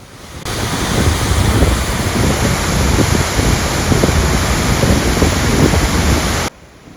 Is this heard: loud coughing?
no